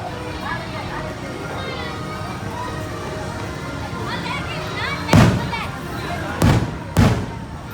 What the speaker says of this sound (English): I thought it would be really good to have some fireworks in the background